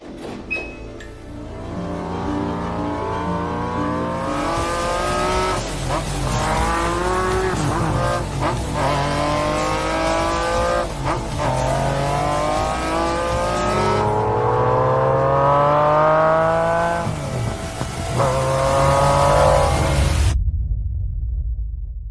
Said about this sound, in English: This is the McLaren F1.